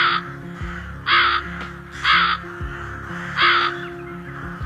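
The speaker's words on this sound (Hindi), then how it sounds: "लोमड़ी की गुफा से जोर जोर से आवाजें आ रही होती हैं कालू कौवे की" A crow caws loudly from inside a fox's cave in an animated story, three harsh calls spaced about a second apart over a steady low background hum.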